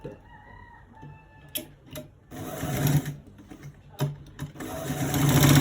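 A sewing machine stitching fabric whirs in bursts of rapid stitching, starting and stopping several times and running longest at the end, close and fairly loud.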